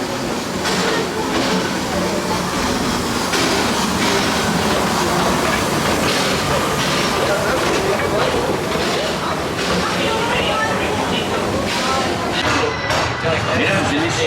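Disneyland Railroad train ride at Disneyland Park in Paris: a continuous rumble of rolling train cars with clattering wheels, dense and loud throughout, with people talking over the ride noise.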